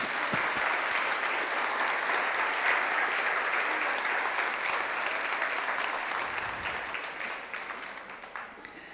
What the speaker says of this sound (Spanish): Dale un aplauso a Jesús por ello.